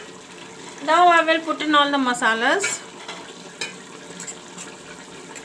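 Chicken pieces frying in a hot pan with ginger, garlic, jeera and black pepper paste nearby, giving a soft, steady sizzle as juices release, with a person talking over it.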